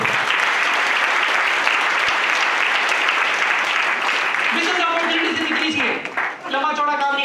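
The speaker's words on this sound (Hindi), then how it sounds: "एक बार दिल से उसके लिए ताली बजाओ जिसकी वजह से आप बैठे हो।" Seminar audience in a large hall applauds, a dense, loud, sustained wash of many hands clapping together; near the end a voice starts speaking over the fading applause.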